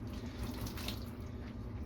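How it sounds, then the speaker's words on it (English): Warm tap water running and splashing as a kitchen towel is wetted and wrung out, a steady, fairly quiet flow with a few brief splashes and no talking. "we're going to wet this towel with some warm water and wring it out"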